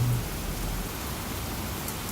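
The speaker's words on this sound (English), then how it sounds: "Now that is a fine quality storm." Heavy rainstorm pouring steadily, a dense broadband hiss of rain close by and loud throughout, with no voices.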